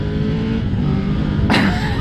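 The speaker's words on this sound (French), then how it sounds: "Ah, ça pousse ce moteur." A Triumph Tiger 1200 GT Pro three-cylinder inline engine pulls steadily with a loud, continuous low drone, and a brief, brighter rising burst of revs or wind rush arrives near the end.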